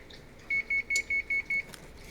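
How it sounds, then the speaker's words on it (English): Kitchen oven signalling it has finished preheating to 350 degrees with six short, evenly spaced electronic beeps, clear and moderately near against quiet room tone, with no talking. "that's the sound of the oven that I've preheated"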